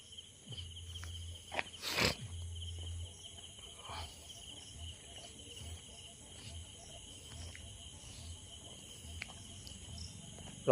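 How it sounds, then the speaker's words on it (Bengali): Crickets chirp steadily at midnight during a festival-night outing, a thin continuous high trill with faint distant background noise and one brief louder burst early on. "ঝিঝি পোকার ডাক পাচ্ছ, শুনতে পাচ্ছ?"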